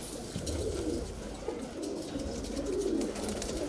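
Kalpare high flyer pigeons coo steadily in a loft, a continuous layered murmur of soft, throaty calls from several birds against a constant background hum.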